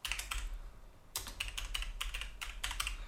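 Typing on a computer keyboard, with quick close key clicks in two bursts separated by a brief pause. The clicks are fairly soft and there is no talking.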